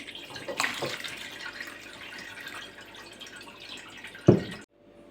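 Homemade apple cider vinegar with its mother is poured from a vessel, making a soft continuous trickle with a few drips and a louder splash just before it stops abruptly.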